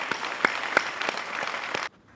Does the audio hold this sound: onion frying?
no